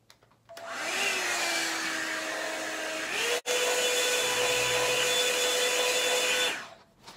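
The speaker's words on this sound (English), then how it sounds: "We'll just use this blow dryer, so for a minute you guys are going to be patient with me" A blow dryer drying freshly washed hair whirs loudly and steadily, switching on, briefly cutting out midway, then running again before shutting off.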